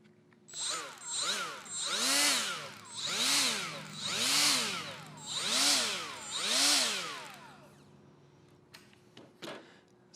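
A Milwaukee M12 FUEL right angle die grinder fitted with a bristle disc, revved up and down in about six rising-and-falling whines close by, then a few clunks as it stops.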